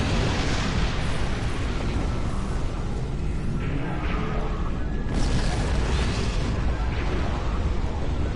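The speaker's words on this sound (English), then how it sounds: "Detonate the charges. Boom!" Detonated charges explode in Star Trek Online, a sustained loud roaring blast with rumbling bursts that fills the whole stretch without letup.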